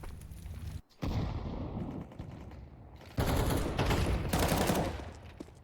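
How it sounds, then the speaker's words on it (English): Gunfire in a Counter-Strike match at a professional esports championship, heard as dense bursts of rapid shots and loud volleys, briefly cut off near the start, then continuing steadily with a louder, heavier stretch toward the end. "gunfight starts to break out"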